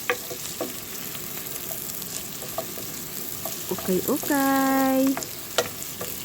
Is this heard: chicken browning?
yes